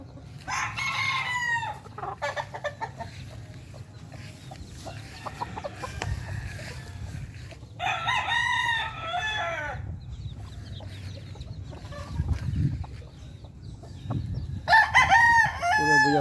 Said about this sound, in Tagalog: Mga manok ko mga idol.